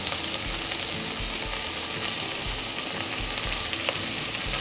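Chopped onion fries in a pan with garlic for a tagliatelle sauce, giving a steady, close sizzle with soft low rhythmic stirring thumps throughout and no voices.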